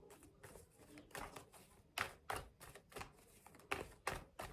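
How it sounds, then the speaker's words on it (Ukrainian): Tarot cards being drawn from a deck and laid down: a series of crisp, papery snaps and taps, irregular and close, with quiet gaps between them. "Я витягну 4 карти."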